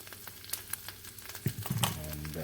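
Hosta and ramp greens with spinach cook quietly in a pan, giving a soft, faint sizzle with light crackles and a few stirring clatters.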